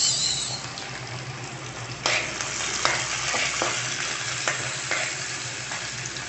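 Garlic and onion sautéing in a pan as the base for shrimp and cabbage, with a continuous close sizzle broken by several sharp spatula scrapes and taps, no voices.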